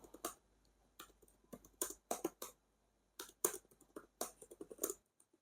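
Quiet computer keyboard typing in irregular clusters of crisp key clicks separated by brief pauses, close and isolated with no talking.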